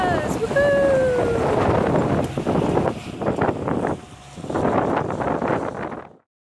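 Strong wind gusts and buffets a microphone aboard a sailing boat heading for the Exumas in the Bahamas. Water rushes underneath the whole time and voices call out briefly over it, until the sound cuts off.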